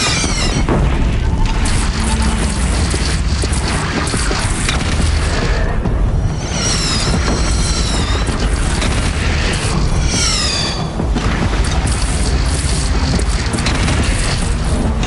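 Heavy cannon fire booms repeatedly in a PS4 battle game, loud and dense, layered with other gunfire, whistling projectiles and explosions in a constant roar of combat.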